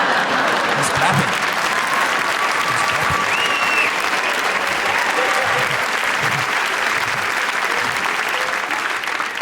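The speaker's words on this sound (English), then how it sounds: "He's clapping." A comedy show audience breaking into sustained applause, dense and steady clapping filling the room for several seconds, with scattered voices mixed in.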